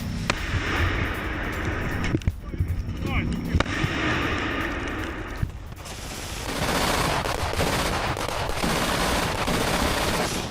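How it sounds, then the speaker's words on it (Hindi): An anti-aircraft gun firing in war footage from the Russia–Ukraine fighting around Kursk. It gives rapid bursts and sharp cracks with booming reports, loud and continuous, and a news narrator talks over parts of it. "एक तरफ एंटी एयरक्राफ्ट गन और ये सामने देखिए एक माइन अटैक हुआ है।"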